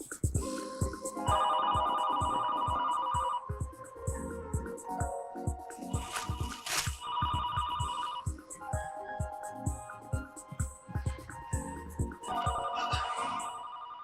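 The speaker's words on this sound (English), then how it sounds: "Can anyone answer the phone?" Electronic telephone ring repeating in bursts of a warbling tone, loud and close over a steady backing beat, with pauses between rings.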